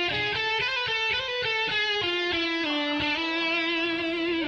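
An electric guitar plays on stage at a comedy show, heavily distorted and run through effects; sustained, buzzy chords and notes shift pitch in a continuous, moderately quiet wash with no talking.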